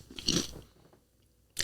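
A person chews crunchy food up close: one loud crisp bite early on fades into quieter chewing, then a second sharp crunch comes right at the end.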